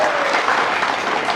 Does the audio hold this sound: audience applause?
yes